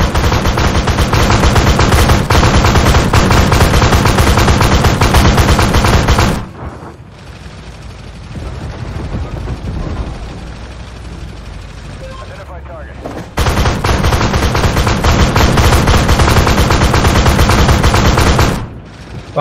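Loud, sustained machine-gun fire in a video game, a relentless stream of rapid shots that stops for several seconds mid-way and then resumes at full intensity before cutting off.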